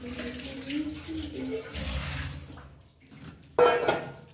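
Tamarind squeezed by hand in water to draw out its pulp, giving soft wet squelches and sloshing that swell into a louder splashy burst near the end, with faint voice-like murmur early on.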